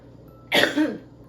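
A single short, close cough from a person whose throat is irritated, a sharp burst followed by a brief rasping tail.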